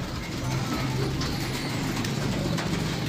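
Pigeons in a loft coo softly amid a busy, noisy background, their low calls faint under general ambient sound.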